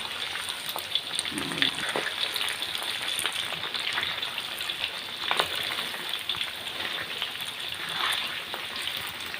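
Pork belly fries in hot oil in a pan, giving a steady, dense sizzle and crackle with scattered pops. It is close and continuous throughout, with no talk.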